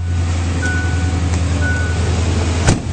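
A 2004 Ford F-150 SuperCrew Lariat 4WD pickup idles with a low, steady engine rumble, close and loud, with a brief sharp knock near the end and faint chiming tones over it.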